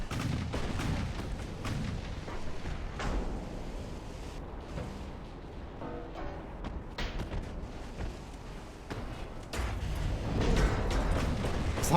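Battleship main guns firing armor-piercing shells in the naval game Ultimate Admiral: Dreadnought, a dense run of booming, rumbling blasts with overlapping low thuds and rolling echoes, loud and continuous throughout.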